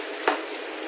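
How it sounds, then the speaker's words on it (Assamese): Meat frying in a pan in a home kitchen, a steady close hiss of sizzling oil with one brief louder spatter, no voices. "মাংস ভাজি আছোঁ মই।"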